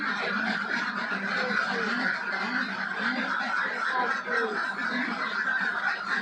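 A flock of ducks on a duck farm kept for eggs, a steady mass of overlapping quacks and honks filling the air at close to middle distance, continuous and fairly loud throughout.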